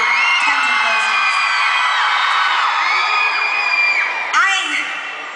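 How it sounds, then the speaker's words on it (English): A concert crowd of fans screams nonstop, a loud sustained wall of very high-pitched shrieks and whoops with wavering individual voices on top, close and dense throughout. "As you can tell by the very, very high-pitched screams and tons of posters."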